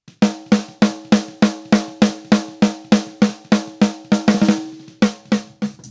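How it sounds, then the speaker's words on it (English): A Metal Machinery snare drum sample is struck about fifteen times in a steady, even rhythm, with a quick roll near the end. Each hit is loud, sharp and dry. "We have just a basic Metal Machinery snare drum as well."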